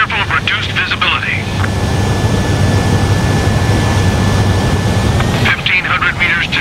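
A jet fighter roars steadily and loudly in Ace Combat 7 during a nighttime flight through a narrow valley, with a thin whine above the rumble. Radio-style voices talk over the engine at the start and end.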